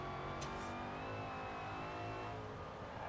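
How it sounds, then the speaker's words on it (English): Car engine revving in the racing video game Forza Horizon 4, a dense, continuous roar with a rising whine, steady and loud throughout with no voices. "Listen to this engine,"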